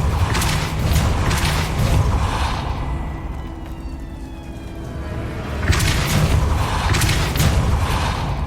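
Depulso force spells blast in the Hogwarts Legacy game, two bursts of heavy thumping booms with rattling mechanical clatter, separated by a quieter stretch of low rumble.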